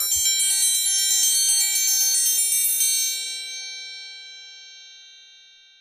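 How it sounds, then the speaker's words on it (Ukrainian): A bright metallic triangle rings with rapid repeated strikes, then lets its shimmering tone decay slowly into silence. "трикутник"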